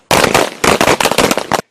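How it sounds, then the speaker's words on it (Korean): A rapid burst of loud, booming hunting shotgun shots fired into the air in quick succession, sharp cracks rolling into one another for just over a second before cutting off. "천둥이 치는 듯한 총소리가 났습니다"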